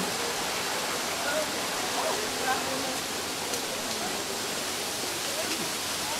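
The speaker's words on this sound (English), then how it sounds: "Look right over here is the waterfall." A steady wash of falling water from a waterfall at a miniature golf course in Charleston fills the scene, broad and constant, with faint voices in the background.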